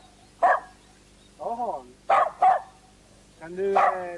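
A dog gives several short barks and yelps spread over a few seconds, fairly close, with voices in between.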